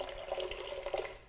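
A cup of water pouring into a blender, a soft trickling, splashing stream with small bubbling bursts, quiet and close with no voices.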